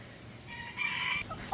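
Backyard garden chickens: a single short rooster crow or loud cluck rises briefly, moderately faint and heard alone against quiet outdoor air.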